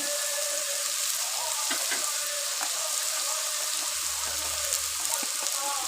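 Cumin seeds sizzle in hot oil for a Bengali-style chicken curry, a steady, bright crackling hiss that stays even and close throughout.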